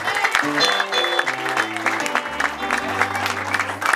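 Lively clapping from a group keeps going over loud music with sustained tones, the applause dense and continuous throughout.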